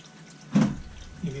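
Water runs from a kitchen tap during Christmas Eve dinner preparations, a soft splashing rush that swells briefly and continues at low level amid household background noise.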